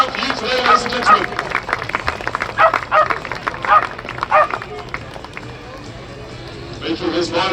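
Applause and cheering from an airshow crowd at Little Gransden greeting a landing parachutist, a loud sustained patter of clapping with a commentator talking over it before it fades out.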